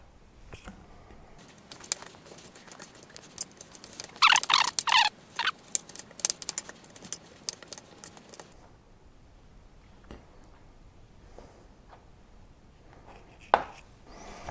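Kitchen knife cutting gristly pieces from boiled chicken on a board, a burst of quick close scraping and tapping cuts around the middle, with scattered lighter clicks before and after.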